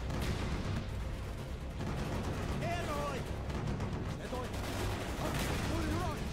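Rapid bursts of gunfire from an aerial strafing run in Call of Duty Black Ops crackle continuously under radio chatter and voices, with dense layered shots and rumbling filling the mix.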